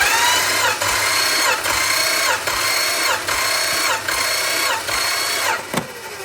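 The 273 V8 of a 1965 Plymouth Barracuda cranks on the starter during a compression test, with a loud, close whirring drone pulsing in a steady rhythm of about eight even beats before it stops.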